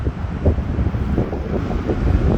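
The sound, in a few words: wind blowing into microphone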